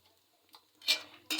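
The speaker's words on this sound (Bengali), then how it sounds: "নাড়তেই বাদামগুলো ভাজা হয়ে যাবে।" Peanuts fry in hot oil in a pan while being stirred. Quiet at first, then two short bursts of scraping and sizzling as the spoon moves through them.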